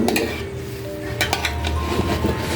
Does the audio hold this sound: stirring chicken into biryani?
yes